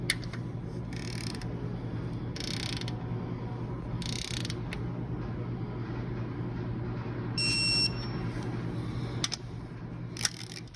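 Ratcheting clicks from a wrench tightening 13 mm bolts on a 2003 Ford Ranger, short bursts of clicking repeated at intervals over a steady low hum, close and fairly quiet.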